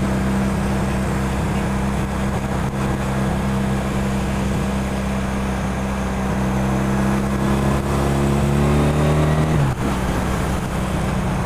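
A 1985 Honda CB 450 Custom motorcycle being ridden gently: a close, steady engine drone with road noise that holds even, then shifts in pitch near the end as the engine note changes.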